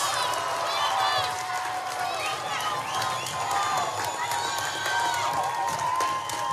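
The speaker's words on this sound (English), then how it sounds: "And the crowd is getting on their feet" Crowd noise at a Division I high school softball state championship game, with fans cheering, shouting and whistling in a sustained roar as players stand, while voices carry on beneath it throughout.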